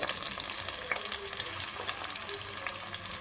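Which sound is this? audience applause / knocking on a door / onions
onions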